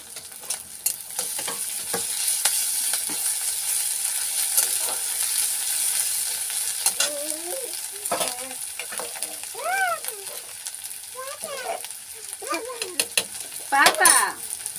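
Ginger-garlic paste frying in a pan in a village kitchen, a steady crackling sizzle with stirring scrapes throughout, and voices, including a child's, talking nearby toward the end.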